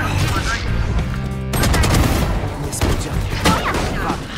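Bursts of automatic gunfire from a shooter video game, loud and near, with sharp repeated shots and booming impacts rolling on for several seconds and a brief pause between volleys.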